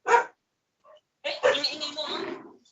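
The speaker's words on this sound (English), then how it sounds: "The dog is joining." A dog barks during a live online call, a sharp burst at the start followed by a faint sound, then a longer stretch of barking mixed with people talking.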